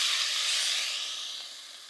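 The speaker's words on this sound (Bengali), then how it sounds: "মশলাটা ভাজা হয়ে গেছে, পানি দিয়ে দিচ্ছি।" Water poured into hot spices frying in a pan gives a loud, close burst of hissing steam that slowly fades.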